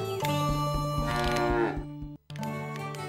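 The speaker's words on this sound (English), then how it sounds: "Should I help you get the cows back into their field?" Several cows on a farm moo loudly and close by, long drawn-out calls following one another with a brief pause before a final low moo.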